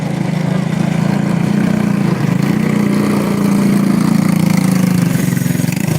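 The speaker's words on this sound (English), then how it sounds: "And here comes the cars in the staging area." Several go-kart engines idle together in the staging area before a race at a short dirt track in Hanceville, Alabama, a loud, steady low droning rumble that holds without pause.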